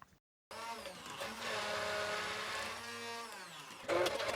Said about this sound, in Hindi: मैं पहले ग्राइंड कर रही हूँ, फिर कुटी लाल मिर्च ऐड करूँगी।